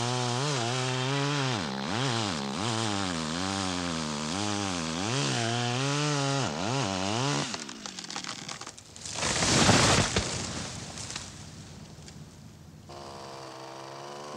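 A chainsaw engine revs up and down in a wavering, buzzing whine for several seconds, then a louder rough burst as it bites, settling into a lower idle.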